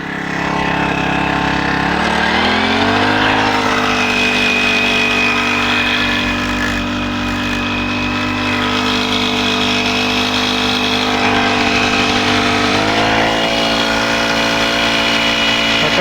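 A small petrol engine on a spray pump runs steadily at close range with a droning hum, its pitch rising and shifting slightly as it revs, then settling again.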